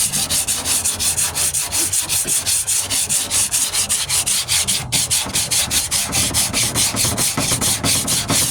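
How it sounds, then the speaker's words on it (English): Rhythmic back-and-forth scraping of 40-grit sandpaper on the metal of a 1998 Ford Ranger tailgate, loud and close, in steady strokes about three per second. "Just keep on sanding. You're going to sand,"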